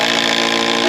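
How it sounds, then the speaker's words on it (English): A Hercules power tool fitted with a socket adapter and 3/8 socket drives SDS screws into a wooden post of a hunting blind, giving a steady, loud, continuous whir without pause. "we're gonna lock this one in using, again, the Hercules with these SDS screws"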